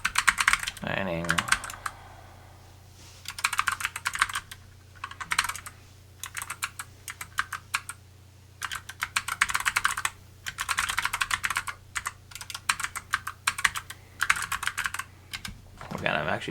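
Rapid bursts of typing on a computer keyboard while a paper's PDF file is being renamed, with clicky keystrokes in irregular clusters separated by short pauses, close and distinct over a low steady hum.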